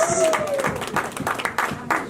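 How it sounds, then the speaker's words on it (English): An audience at a women's peace and empowerment summit claps for a group of women being called up, steady applause from a crowd that continues throughout, with an amplified voice over it. "Please, clap for these wonderful ladies."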